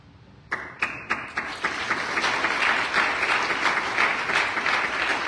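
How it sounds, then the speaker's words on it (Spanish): A standing audience at an award ceremony at a bar association honoring a criminal law scholar breaks into applause, a few sharp early claps building quickly into sustained dense clapping from a large crowd. "Grandes aplausos"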